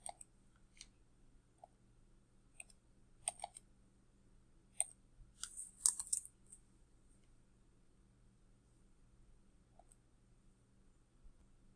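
Computer mouse clicks while working in a Jamboard activity, sparse faint single clicks scattered over several seconds with a small cluster of quicker clicks in the middle, close and quiet over a low background hum.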